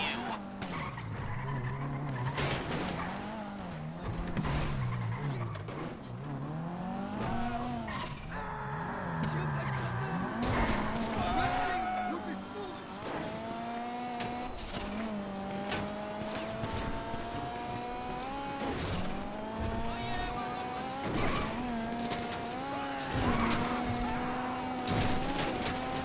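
A heist car in GTA V skids and squeals its tires through repeated turns, engine pitch rising and falling as it accelerates, close and continuous, with occasional talking underneath.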